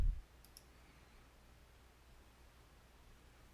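A computer mouse makes a few soft, close clicks while selecting checkboxes for virtual machines, then everything falls to a faint, steady background hiss.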